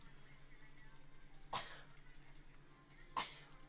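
Two short, sharp sneeze-like bursts about a second and a half apart against a quiet background hum.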